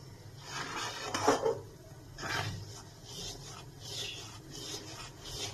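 A spoon scrapes and rubs through thick palm fruit pulp in a pan, in slow, faint, intermittent strokes.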